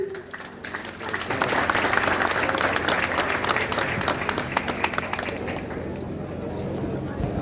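Crowd applause rises at an agricultural technical high school inauguration ceremony in Petit-Trou de Nippes, swelling after a quiet second into dense clapping that thins toward the end, with voices talking underneath.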